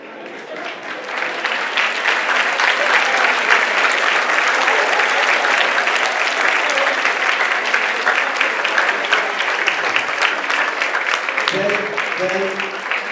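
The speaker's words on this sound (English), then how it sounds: "we want to clap for you" Students at a school assembly are applauded by a large gathering, a long, full, even wave of clapping from many hands that continues steadily, with brief voices near the end.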